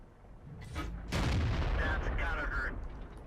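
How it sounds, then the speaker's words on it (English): Tank cannon shots in the World of Tanks video game, a short sharp report followed by a heavier booming blast with rumbling tail, heard under some speech. "I'm going to be able to reload and fire another shot."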